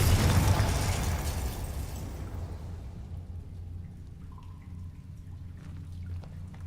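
A Confringo spell explosion in the Hogwarts Legacy video game, a loud, dense boom and rushing blast at the start that decays into a low, rumbling tail.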